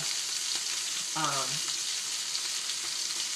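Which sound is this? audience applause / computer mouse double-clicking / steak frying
steak frying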